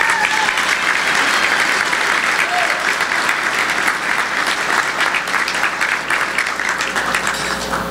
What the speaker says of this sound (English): how about one more round of applause for all of these great sailors and their spouses